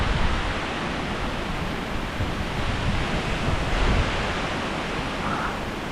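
Gusting wind during Hurricane Milton, a dense continuous roar of broadband rushing noise with slight swells, loud and steady throughout.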